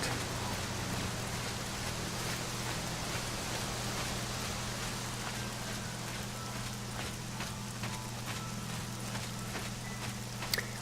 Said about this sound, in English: and it's raining on top of that.